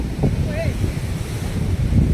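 Sea waves splash up against rocks near a coastal cave on the Konkan shore, a constant rumbling surge with heavy wind buffeting the microphone.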